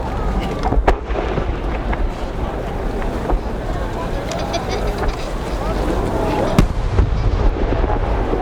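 Fireworks by Sanen Enka burst at the 2019 Omagari fireworks festival, sharp booming detonations standing out over a continuous crackling, rumbling barrage, with an announcer's voice heard over the display.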